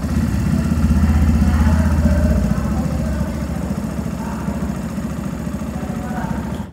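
A 2025 Yamaha FZ-S V4 hybrid motorcycle with an integrated starter motor idles close by with a low, steady rumble that briefly shifts in tone partway through before settling back into an even idle.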